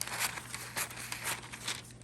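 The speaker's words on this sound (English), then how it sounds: "We're gonna cut this frame out." Material is cut to free a frame during a thrift-flip craft project, giving soft crinkling and tearing rustles in short bursts, close and fairly quiet, with no talking.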